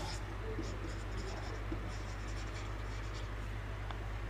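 Pen writing by hand on paper while recording a journal entry for an accountancy lesson: a soft, steady, continuous scratching that runs throughout under a low hum.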